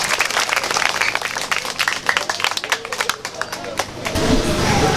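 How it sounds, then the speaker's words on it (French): Guests at a humanitarian school-kit giveaway clap in a lively, uneven burst of applause, with crowd murmur and voices mixed in and a rising rumble near the end. "Applaudissez s'il vous plaît."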